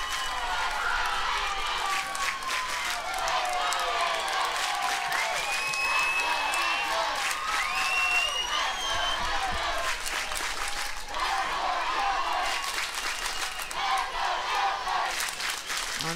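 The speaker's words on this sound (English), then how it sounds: "this Angels crowd is up on their feet" Youth baseball crowd at a 10U national championship game, steady dense cheering and shouting with whistles and high yells over continuous applause, sustained and fairly loud throughout.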